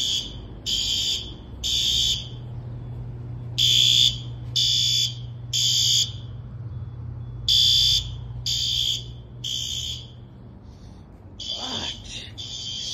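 A workplace fire alarm sounds during a test, giving loud, shrill electronic bursts in an uneven on-off rhythm over a low steady hum. A brief voice or noise comes in near the end.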